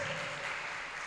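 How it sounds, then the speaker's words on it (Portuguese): Church congregation applause during a women's worship service, a brief burst of dense, even clapping from many people. "Você pode aplaudir ao Senhor pela vida dos seus pastores?"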